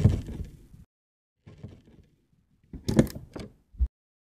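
A CPU socket retention plate is pressed down, giving a few separate bursts of creaking and grinding with short clicks, close and sparse, with quiet gaps between them.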